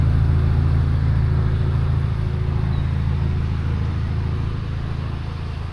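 Ferrari sports car engines running on a street, heard as a steady, loud low rumble that fades slightly toward the end, with no clear revving bursts and no speech.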